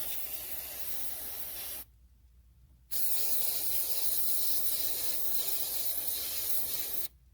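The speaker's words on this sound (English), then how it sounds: "So I'm gonna spray some stuff down in there." Aerosol cleaner sprayed down into a car part, loud steady hissing bursts near the mic: a long spray, a one-second pause, then a second sustained burst cut off before a final short one.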